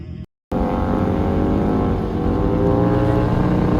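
Bike number 2055, a land speed racing motorcycle, runs on the El Mirage dry lakebed course with a loud, sustained engine drone that holds a steady pitch after a brief cutout at the start.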